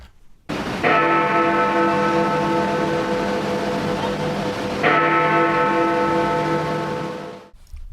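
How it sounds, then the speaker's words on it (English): The bells of Big Ben in London strike twice, each a loud, rich, resonant toll with a long ringing decay that overlaps the next stroke, heard alone. "what you've just heard are the bells of Big Ben in London"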